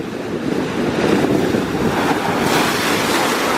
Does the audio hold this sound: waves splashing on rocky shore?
yes